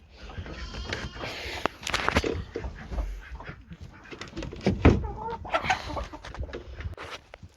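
Chickens cluck and murmur in a coop being shut up for the night, with scattered soft calls and rustling, a brief louder squawk near the middle, and some quiet human movement nearby.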